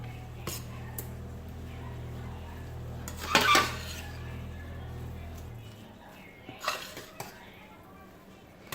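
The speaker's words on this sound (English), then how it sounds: "let me stir this really well to combine it" Callaloo and saltfish stirred in a pot, with scattered metallic scrapes and clinks and one louder clatter over a low steady hum, close by.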